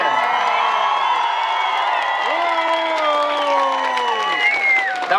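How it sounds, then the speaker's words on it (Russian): A street crowd at an outdoor song contest on a pedestrian street in Minsk claps and cheers, with long sustained voices and whoops rising over steady clapping. "аплодисменты!"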